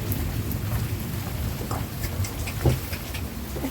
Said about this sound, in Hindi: बारिश बहुत ज़्यादा हो गई है जी।